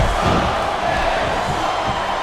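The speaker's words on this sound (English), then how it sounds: "The crowd is coming alive." Broad crowd roar from a WWE SmackDown vs Raw 2008 wrestling match fills a short stretch at steady volume, with no individual voices standing out.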